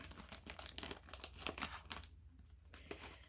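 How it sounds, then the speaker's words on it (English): Close crinkling and tearing of a thin plastic bag of rice being opened, a series of sharp rustles followed by a short pause and a few more crackles. "I got another bag of rice. So let's go ahead and open that up and use it."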